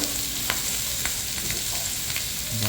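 Butter sizzling and frying in a pan for shrimp fried rice, a steady close crackle with faint scraping stirs throughout and no talk.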